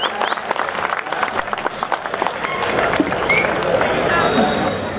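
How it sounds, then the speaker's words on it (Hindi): Audience clapping for a poet at an Urdu mushaira in Belgaum, a loud crowd of hands applauding in the hall, with voices speaking over it. "आपके चहीते शायर के लिए आपकी तालियां होनी ही चाहिए"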